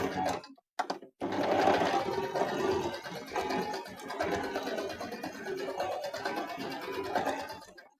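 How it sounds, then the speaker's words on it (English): A sewing machine stitches a double back stitch along a seam while making a cushion, its rapid whirring run starting after a couple of short bursts and continuing steadily at close range, with brief quiet talk underneath. "when I get to one of those, I'm going to do like a double back stitch"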